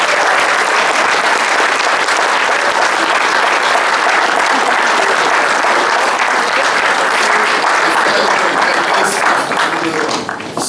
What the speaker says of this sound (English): if you can give an extra loud round of applause